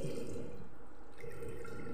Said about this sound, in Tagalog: Tapos, lagyan natin ng isang tasang tubig.